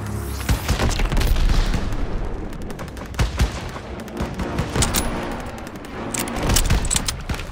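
Rapid World War II gunfire and explosions crackle through a Call of Duty WWII battle, dense bursts of automatic fire and heavy booms overlapping in an unbroken, loud barrage with no talking.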